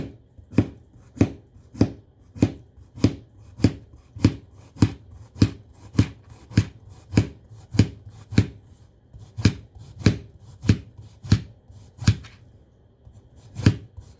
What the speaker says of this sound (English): Then I'm going to take the yellow one. Cut the tip off. And then slice it up too.